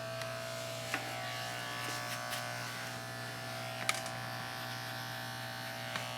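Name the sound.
electric hair clipper cutting hair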